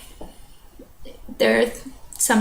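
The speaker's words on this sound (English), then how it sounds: "Simple things like coughing." Two coughs ring out close to the mic, a loud harsh one followed by a shorter second burst, after some quiet low rustling.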